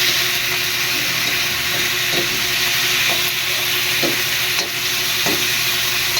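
Chicken liver and gizzards sizzle steadily in a pan for adobo, a continuous close frying hiss with occasional soft stirring clicks and scrapes, no talking.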